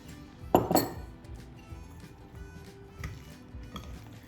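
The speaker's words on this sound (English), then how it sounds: "You can mix with a chopstick and a spoon." Chopstick and spoon clink against a bowl while mixing Vietnamese spring roll (nem) filling seasoned with salt and black pepper; a couple of sharp clinks near the start, then quieter scraping and stirring taps.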